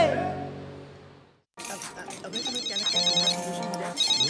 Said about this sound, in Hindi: राजू फोन उठाओ।